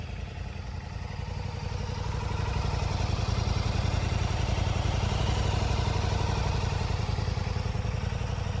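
A 2026 Ducati Diavel V4 Dark Stealth engine running at a steady idle just after first start, close by, with a rapid, even rumbling pulse that grows slightly louder and holds on its own.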